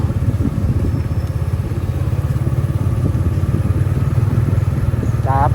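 Motorcycle engine running steadily and loud at close range while riding around Sang Jiang market in Laos, with a continuous rumbling putter and rattle throughout.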